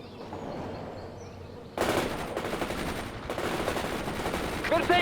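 Rifle and machine gun fire in the World in Conflict video game, opening with a low rumble before a sudden burst of rapid automatic shots that keeps rattling, with radio voices and chatter mixed underneath.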